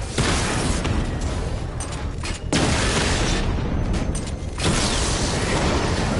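A drone is destroyed in Batman: Arkham Knight, heard as dense, loud explosive bursts and crackling mechanical noise in several heavy waves.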